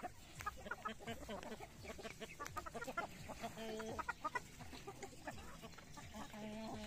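Backyard chickens and a rooster clucking and calling in a rural yard, overlapping bursts of close, busy farm-bird sounds throughout.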